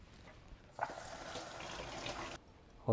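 Cut squid for a Thai hot and sour soup is rinsed under a running tap, a steady close splash of flowing water lasting about a second and a half before it shuts off.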